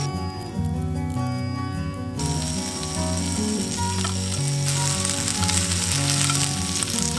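Food sizzles steadily as it fries in oil in a pan during a seaside overnight car-camping stay, the crackle holding loud and close while tonal background music plays throughout.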